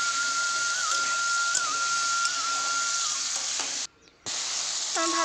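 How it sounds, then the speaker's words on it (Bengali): Cubed aubergine and potato being fried and stirred in a pan for an aloo begun bori curry: a loud, continuous close sizzle with occasional stirring clicks, a faint whistling tone and a brief drop-out near the end. "তো এরপরে বেগুনটা আর আলুটা দিয়ে ভালো করে এখন কষে নেব।"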